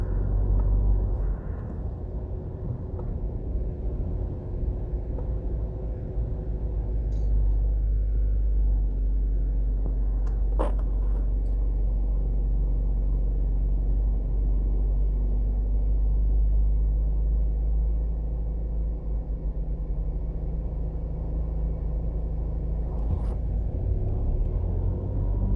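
Busy traffic on Hagley Park Road in Jamaica, a continuous low rumble of passing cars, close and loud, with a couple of brief sharp clicks and no voices.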